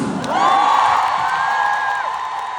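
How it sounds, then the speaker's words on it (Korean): A concert crowd cheers and shouts, loud high-pitched squeals and whoops rising together and holding for a couple of seconds, with faint clapping beneath. "이거는 박수!"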